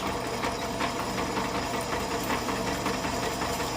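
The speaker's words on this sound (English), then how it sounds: "This soft steel seems to drill pretty easy, so you don't need any lube on there or any coolant." A drill bores through soft steel without lube or coolant while a bracket is made for a tractor pump, giving a steady, loud mechanical whir with a rapid rhythmic chatter throughout.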